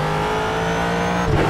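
A Ford GT race car, the temperamental 2011 Robertson Racing GTE machine, drones loudly at steady high revs in iRacing, a continuous engine note that shifts slightly near the end.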